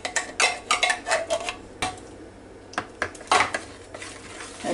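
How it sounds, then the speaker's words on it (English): A utensil scrapes and clinks inside a metal can, stirring milk into leftover mushroom soup in quick, uneven bursts of close tinny taps and scrapes with brief pauses, no voices. "save just a little bit of the milk and put back in the can and stir that up"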